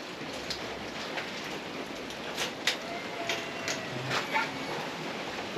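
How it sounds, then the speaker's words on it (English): Heavy rain pours down outside, a steady broadband hiss with scattered sharper drops and patters striking surfaces, moderately loud and continuous with no talking. "absolutely chucking it down out there"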